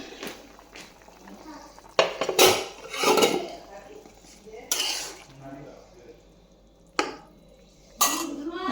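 Pots, pans and cutlery clatter in a village kitchen during cooking, several sharp bursts of clinking and scraping at irregular intervals, with people talking nearby between the clashes.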